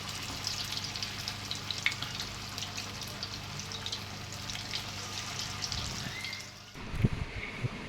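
Chicken wing pieces sizzle steadily in hot oil in a pan, a continuous close frying hiss that runs alone for several seconds before a brief shift and a few clunks near the end.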